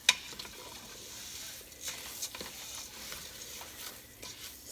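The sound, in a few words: rice browning and sizzling in a pan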